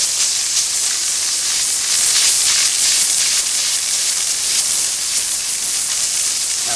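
A dry vapor steam cleaner runs over a bleached patch of a kitchen stove, giving a steady, loud, unbroken hiss of steam that holds for the whole stretch with no talking.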